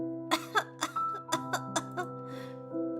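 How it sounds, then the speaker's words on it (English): A character in the otome game Scarlet Hunt breaks into a coughing fit: a rapid series of sharp, close coughs over a steady sustained musical tone, fading into a wheezy end. "The sudden onset of the coughing fit makes you flinch"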